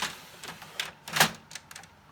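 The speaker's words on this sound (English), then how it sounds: "Push it back. You want to hear it click." A series of light plastic clicks and taps as a printer paper tray is pushed in, ending with a sharper click as it seats.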